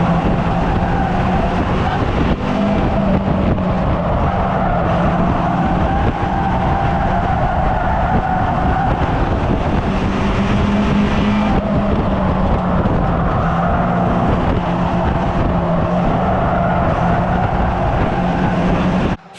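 Race cars at Cowdenbeath Racewall, close pack oval racing, give a loud, continuous roar of engines that stays dense and steady throughout, rising and shifting slightly as the cars pass.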